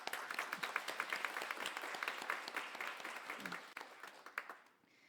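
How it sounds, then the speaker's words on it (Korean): A church congregation at a Salvation Army Sunday service claps in celebration, a moderately quiet, steady patter of many hands that thins out and fades toward the end, with faint talk underneath. "저희 한번 박수를."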